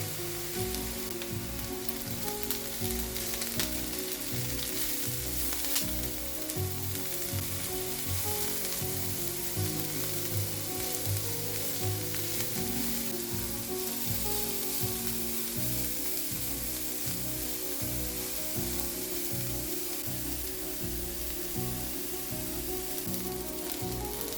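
Grated carrot, onion and garlic fry in a hot pan, giving a steady, close, dense sizzle that holds without pause for the whole stretch, with no voices.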